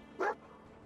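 A single short bark from Dogmeat, the German Shepherd companion in Fallout 4, sounding quickly and at moderate volume against a quiet background.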